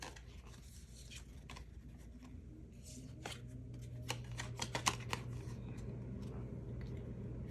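Tarot cards are shuffled in quick papery riffles and soft rustles, fairly faint and close, growing busier toward the end with a few sharper flicks, with no speech.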